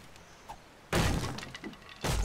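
Stone being smashed in the survival game 7 Days To Die: a few sharp, loud crunching impacts, with one broad hit that rings on and a second strike near the end, with no talk.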